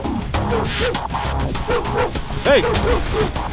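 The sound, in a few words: dog barking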